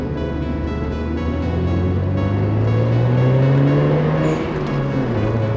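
A right-hand-drive TVR sports car imported to the USA drives steadily, its engine droning loud and close with rising pitch as it accelerates and shifts gears, sustained throughout.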